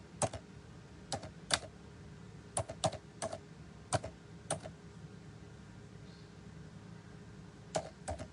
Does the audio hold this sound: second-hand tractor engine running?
no